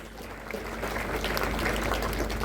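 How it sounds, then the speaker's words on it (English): A crowd at a funeral claps in a steady, even round of applause, the sound building slightly and holding without talking. "Let us appreciate the family with a round of applause kindly."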